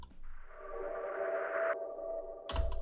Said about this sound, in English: So then with the addition of the risers,